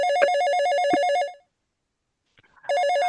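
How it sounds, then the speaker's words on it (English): An old-fashioned telephone bell rings loudly and close by, in a warbling trill. One long ring is followed by a pause, then the ringing starts again. "what is that ringing? I mean, that's not a retro ring on a mobile, is it?"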